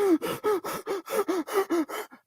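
A voice imitates short, anxious breathing: about nine quick, sharp gasping breaths in a fast, even rhythm, close and clear, with no other sound.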